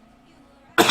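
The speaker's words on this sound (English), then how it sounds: "Coughing up a lung there." A single sharp, loud cough bursts out close to the mic after a near-silent stretch.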